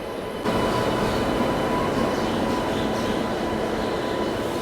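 The Gorakhpur Express, hauled by a Gonda-shed WAP-7 electric locomotive, rumbles loudly at platform 8 of an Indian railway station, a continuous heavy roll that swells in after a quiet half-second and stays steady.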